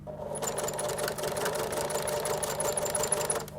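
A sewing machine runs steadily while edge stitching the border of a fabric face mask, its motor giving a continuous mid-level whir with a fast needle rhythm and no talking.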